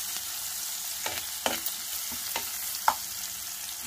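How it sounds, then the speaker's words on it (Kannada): Onion and garlic frying in a pan on a home stove, a soft steady sizzle with a few sharp clicks of stirring scattered through, no voices. "ಒಂದೆರಡು ನಿಮಿಷ ಫ್ರೈ ಮಾಡ್ಕೊಳ್ಳೋಣ."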